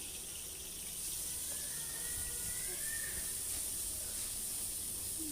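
Ginger garlic paste frying in oil in a kadai, a steady close hiss and sizzle holding evenly throughout with a faint high whine above it.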